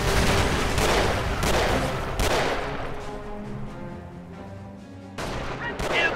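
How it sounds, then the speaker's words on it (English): Rifle fire in the Company of Heroes video game: repeated bursts of gunshots and a rattling fusillade, dense and loud at first, then thinning into distant rumble before another volley, with no speech. "Taking rifle fire!"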